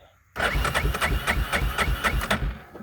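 A 1999 Yamaha Big Bear 350 ATV engine cranks in a quick, even run of rhythmic pulses for about two seconds, then cuts off without catching.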